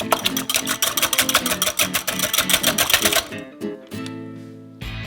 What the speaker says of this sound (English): Mix them well with a whisk.